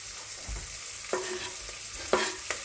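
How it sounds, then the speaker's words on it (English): Garlic frying in butter in a pan, a steady close sizzle with a few brief scraping stirs breaking through, and no voices. "So I'm going to put my garlic in now."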